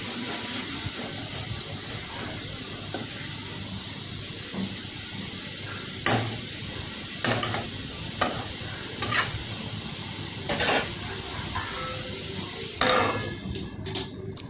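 Beetroot fries in a pan under a soft, continuous sizzle, with intermittent clicks and scrapes as a spatula stirs it and a lid is handled.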